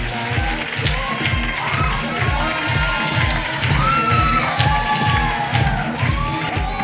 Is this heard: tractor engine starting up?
no